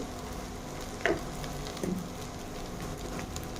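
Onions frying in a pan with chopped chili, ginger-garlic paste, salt and spices, a soft, steady sizzle close by with a couple of brief stirring clunks, fairly quiet and without talk.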